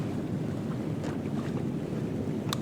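A small fishing boat's motor hums in a low, steady drone out at sea, mixed with gusty wind noise on the microphone.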